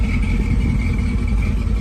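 A truck engine idles close by, a steady low rumble with a faint higher whine running under it, constant and alone.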